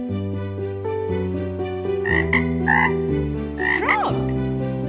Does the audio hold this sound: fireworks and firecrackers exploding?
no